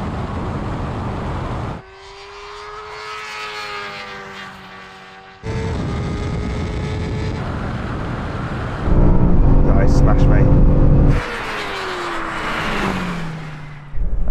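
A BMW M5 CS and a BMW M superbike in a drag race, loud engines roaring and shifting through gears in several bursts with rising and falling pitch, close and fairly loud.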